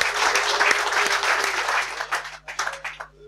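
An audience on a German talk show applauds to welcome a guest, loud sustained clapping that thins out and fades toward the end, with a faint low hum underneath.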